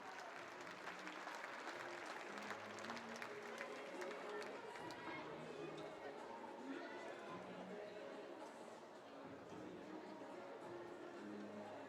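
An audience at the IFSC Climbing World Championships lead qualification in Innsbruck claps steadily for the route setters, a sustained wash of applause with crowd chatter and a voice talking over it.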